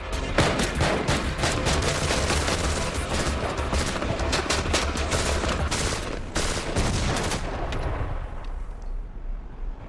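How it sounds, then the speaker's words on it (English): Rapid, sustained gunfire from a PSD weapon shooting through a vehicle's tempered windshield, dense bursts of loud, close shots with overlapping echoes for most of the span, then stopping near the end. "With the PSD, shooting through our vehicle's tempered windshield is no problem."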